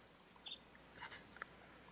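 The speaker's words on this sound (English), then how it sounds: "So you hear a lot of birds in Undermountain." Sparse bird chirps form the background ambience of a tabletop game session: a few short, high calls at irregular moments, faint and with no one speaking.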